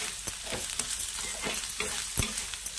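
Fried onion, ginger and garlic stirred in a pan for egg bhurji: a steady, close sizzle broken by sharp clicks from a spatula scraping the pan.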